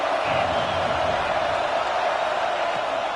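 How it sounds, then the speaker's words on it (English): Stadium crowd at a Penn State football game roars in a broad, sustained wall of cheering and whooping, loud and distant-sounding, with no break across the stretch. "This crowd ready to make its presence known"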